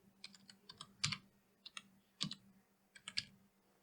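Keystrokes on a computer keyboard tap out a short web address, a quick uneven run of close, crisp clicks with a few heavier strokes, heard alone with no talk.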